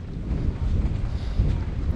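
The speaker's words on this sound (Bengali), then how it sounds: "এই যে একটা নৌকা" A small trawler boat on clear blue water near Nainativu island in northern Sri Lanka gives a steady low rumble, mixed with constant wind buffeting the microphone.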